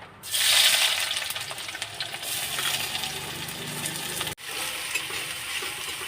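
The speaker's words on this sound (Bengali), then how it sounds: "কড়াইতে তেল দিয়েছি তেলটা গরমও হয়ে গেছে এবার এতে পেঁয়াজ কুচিগুলো দিয়ে দেবো" Chopped onions hit hot oil in a wok and fry with a loud, steady sizzle, briefly cut off partway through and then resuming close up, with occasional stirring clatter and no talk.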